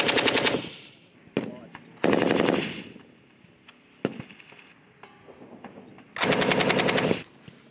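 A machine gun fires at a rapid rate in three long, loud bursts with single sharp shots between them during military defense drills. Each burst cuts off abruptly into quieter gaps.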